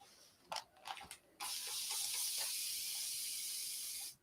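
A spray bottle mists water onto hair during a shattered bob haircut, after a few brief clicks and handling noises, a steady close hiss lasting nearly three seconds.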